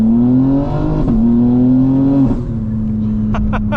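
A 2025 BMW M4 Competition xDrive launches under launch control, its engine roaring loud and close with a steady pitch that dips briefly at each gear shift over about four seconds.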